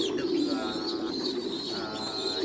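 Pigeons on a breeding farm coo and murmur continuously at close range, a dense, low burbling chorus with occasional higher chirps and no talk.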